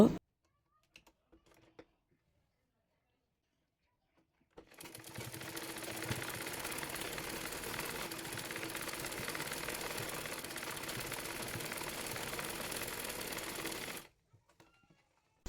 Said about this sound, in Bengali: এবার সালোয়ারের মোহরিটি মরিয়ে সেলাই করে নেব